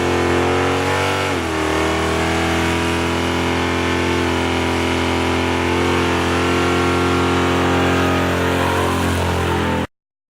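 A 1972 Chevelle's V8 engine rumbles loudly and steadily through a 3-inch exhaust with H-pipe and Dynamax Ultraflow mufflers, with a deep revving swell near the start, then cuts off abruptly at the end.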